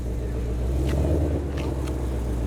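A car engine rumbles low and steady as the vehicle is shifted into drive and pulls forward, with a slight rise in revs and a few faint clicks over the close idle.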